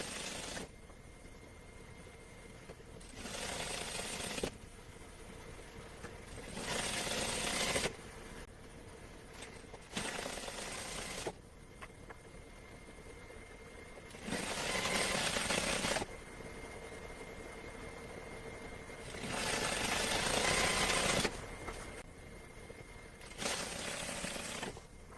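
Sewing machine stitching a narrow rolled hem on a full skirt, running in several loud bursts of a few seconds each, separated by quieter pauses with no talk.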